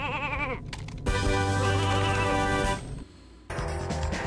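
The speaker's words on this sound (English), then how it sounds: "Turns anything into sheep. Like so." Video game sheep from the Sheepinator weapon in Ratchet & Clank 2 let out loud, wavering bleats in a couple of bursts, separated by a brief quiet gap and other game sounds.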